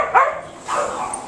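A dog gives a couple of short, high yelping barks, fairly close, in a brief burst.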